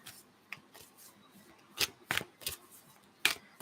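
Tarot cards are shuffled by hand in a few quick, crisp riffling bursts with short pauses between them, close and fairly quiet, with no talking.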